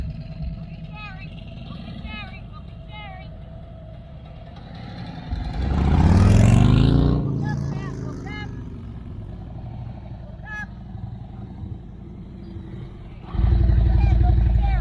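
Motorcycle engine revving during a rider training drill around cones, a swelling roar that peaks and fades, then another burst of throttle at the end, with an instructor calling out over it.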